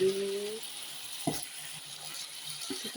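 Rica-rica being stirred in a frying pan, with a soft steady sizzle and a couple of brief scraping stirs, fairly quiet throughout.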